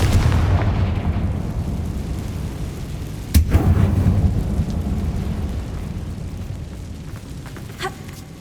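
Spell explosions in Hogwarts Legacy boom over a low rumbling game backdrop, with one sharp blast in the middle followed by a rolling decay and a smaller burst near the end.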